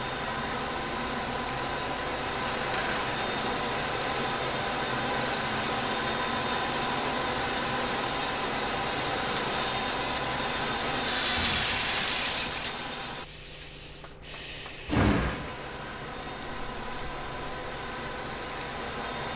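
A saw in the video game Limbo runs with a continuous grinding drone, steady and fairly loud, that briefly drops away near the end before a thump and a return of the hum.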